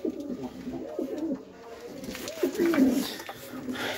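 Pigeons, fancy and desi breeds kept in a loft with eggs and chicks, coo in soft repeated low throaty rolls, close by, over quiet background rustle.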